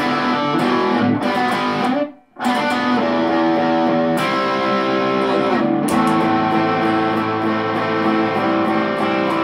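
An electric guitar played through a distortion pedal for a song gives loud, sustained, fuzzy chords in a strummed verse pattern, with a brief drop to silence partway through.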